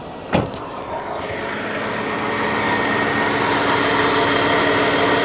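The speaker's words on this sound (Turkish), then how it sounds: "Aracı da çalıştırıyoruz." A car engine cranks and catches with a short burst, then settles into a steady, even idle that grows slightly fuller, close by and without voices.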